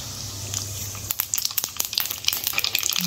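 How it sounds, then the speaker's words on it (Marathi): Mustard seeds crackle and pop in two big spoonfuls of hot oil for chole, a steady sizzle bursting into rapid, close, irregular snaps that thicken over the last two seconds. "मी 2 मोठे चमचे तेल टाकले आणि हे बारीक 2 चमचे मोहरी घालणार आहे"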